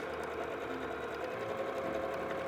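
Sewing machine stitching a quilted placemat hums in a steady, continuous run of fast stitches, close and moderately loud, with no talking over it.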